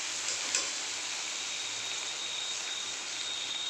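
Steady, even sizzling of ground spice paste sautéing in a hot pan, continuous hiss with no talking.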